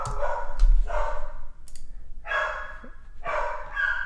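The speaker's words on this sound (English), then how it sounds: "There's my dog. Sorry about that." A pet dog barks indoors in four separate bursts, sharp and fairly close, with short quiet gaps between them and no talking over the barks.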